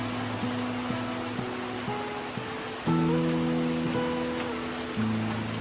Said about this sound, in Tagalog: Bustak dayon ng ulan